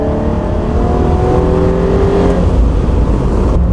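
A modified BK1 Hyundai Genesis Coupe with a 3.8 V6 accelerates hard, its loud engine note rising steadily in pitch over a few seconds before the throttle eases and the revs drop near the end.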